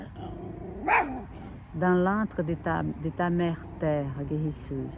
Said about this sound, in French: qui a vu un chien et qui aboie